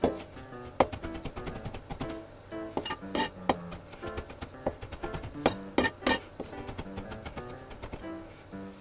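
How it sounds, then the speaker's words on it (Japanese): Parsley being finely chopped with a knife on a cutting board: irregular clusters of sharp, quick taps, some louder and some softer, set against a quiet kitchen with no talking. "彩り用のパセリ、こちらみじん切りにします。"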